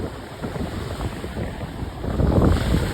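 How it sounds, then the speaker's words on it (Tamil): Sea waves and strong wind at a Pondicherry beach in Pillarkuppam, a steady roar of surf with wind buffeting the microphone, swelling louder toward the end with no voices. "அந்த அளவுக்கு அலை அடிச்சுன்னு இருக்குது, காற்று அடிச்சுன்னு இருக்"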